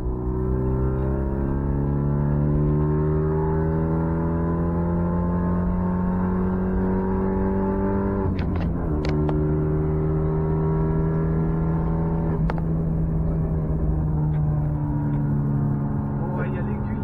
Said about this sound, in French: On va essayer de faire une petite accélération.